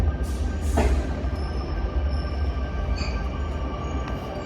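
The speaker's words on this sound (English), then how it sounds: "We welcome you all today to the exciting arrival of our new Mariyung train." A Sydney Trains Mariyung D set rolls into Hurstville Station with a loud, steady rumble of wheels and motors, with brief high squeals and chimes over the continuous low roar.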